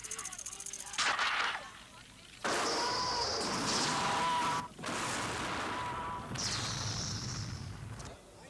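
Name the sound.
gunfire from a gun firing blanks on a film set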